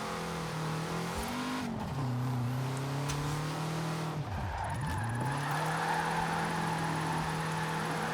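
BMW with a 160 horsepower engine and soft suspension revving hard while drifting in Forza Horizon 4, a steady loud engine drone that dips and climbs with throttle, tires squealing alongside, with no talking over it.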